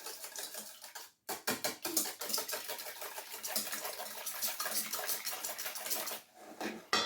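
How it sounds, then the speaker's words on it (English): A whisk beats eggs and herbs in a bowl with a rapid, rhythmic clatter that runs continuously for several seconds after a brief pause, close and fairly loud. "you're just gonna use your whisk, and you're gonna mix it all together"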